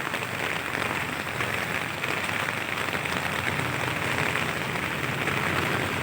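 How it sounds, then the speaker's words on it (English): Steady rain falling outdoors near an office and shed in mild weather, a dense, even patter on surfaces that holds at the same level throughout with no talking. "Even it's still raining, but the weather is not cold."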